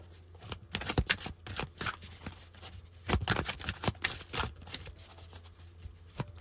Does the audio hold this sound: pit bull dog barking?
no